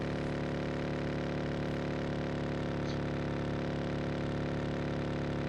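A motorcycle engine idles in a video game: a steady, even mid-pitched hum that holds unchanged throughout, with no voices over it.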